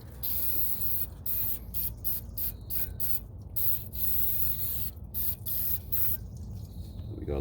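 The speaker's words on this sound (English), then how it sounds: "we're gonna grab the brake cleaner and we're gonna spray everything down" Brake cleaner sprayed in repeated bursts over the piston, shoe and rotor of a 2008 Infiniti G35 rear brake, loud, close hissing blasts separated by short pauses, with no talking.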